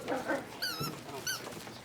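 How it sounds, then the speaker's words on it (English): Puppies at the Puppy Bowl, a televised game of puppies playing on a mock football field, give two high, wavering yips and whimpers over busy background chatter and movement, fairly close. "Sweet little puppies just running around aimlessly and not quite sure where to go."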